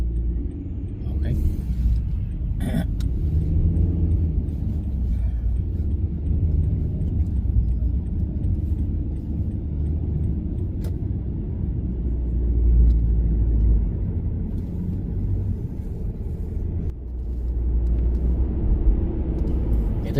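Car cruising on a highway in Canada in winter, a steady loud low rumble of engine and road noise throughout, with a voice talking over it.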